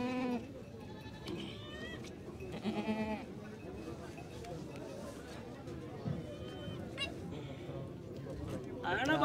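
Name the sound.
goats bleating after a kid is born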